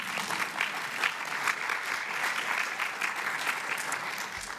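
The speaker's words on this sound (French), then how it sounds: "Eh bien les anciens applaudissaient les nouveaux" At an awards ceremony for women engineers, returning attendees applaud the first-time guests, a steady, even burst of many hands clapping that carries on without a break.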